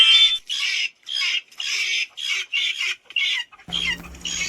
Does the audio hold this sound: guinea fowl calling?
yes